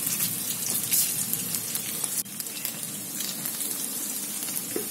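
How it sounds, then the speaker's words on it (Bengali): Paneer cubes fry in oil in a kadai, giving a continuous close, hissing sizzle with scattered spitting crackles and one brief dip midway, with no talking. "এর মধ্যে তেল দিয়ে দিলাম কড়াইয়ে। এরপর পনিরগুলো দিয়ে দেব।"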